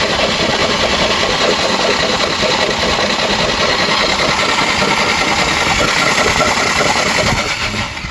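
A flooded Ford Ranger engine idles steadily and loud, a dense mid-frequency rumble with a faint vibrating rattle that runs unbroken for the whole stretch and eases off only slightly at the very end.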